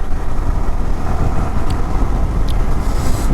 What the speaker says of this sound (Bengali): ভাই তিন চারটা বাইক নিয়ে আসার মজাই আলাদা